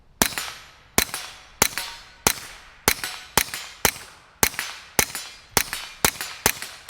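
A Retay RXP22 fires about a dozen sharp shots at steady intervals, each ringing off a steel man target 25 yards away with a bright metallic clang and a short decay.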